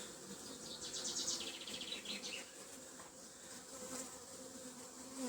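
Honeybees buzz around an opened beehive during spring apiary maintenance, a continuous close drone of many bees with individual bees whining past, fairly soft overall.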